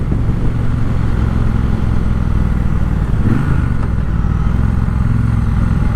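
A 2020 Triumph Bobber Black motorcycle engine runs steadily with a smooth, continuous low rumble throughout, heard close with a brief faint rattle midway and no voices.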